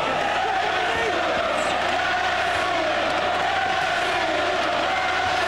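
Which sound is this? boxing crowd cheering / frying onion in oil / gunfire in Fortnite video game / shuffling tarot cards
boxing crowd cheering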